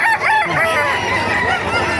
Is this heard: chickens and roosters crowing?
yes